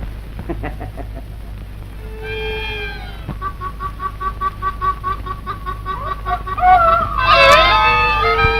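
Chickens clucking in a farmyard on a classic Hindi film soundtrack, a steady run of close, repeated clucks with a rooster-like crow rising near the end, no voices over it.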